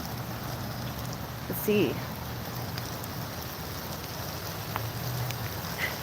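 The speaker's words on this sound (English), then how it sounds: "Brave woman wizard out here in the rains" Rain falls steadily in the woods as a dense, even hiss of drops, with a few faint scattered sounds and a woman's brief quiet speech partway through.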